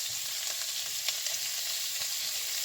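Asparagus spears crisping in a hot pan give a steady, soft frying hiss with faint pops and occasional light crackles, close and continuous with no voices.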